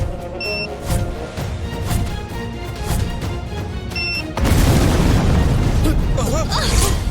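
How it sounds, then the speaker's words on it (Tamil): A house explodes in a loud, close boom that turns into a sustained rumbling roar of destruction, following busy dramatic sound with faint tones. "என் வீடு வெடிச்சு இப்படி நில கொல்லஞ்சு போச்சே."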